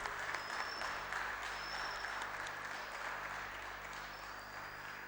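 Audience applause at a school event in Chamba, a faint, continuous patter of many hands clapping that stays even throughout, over a low electrical hum.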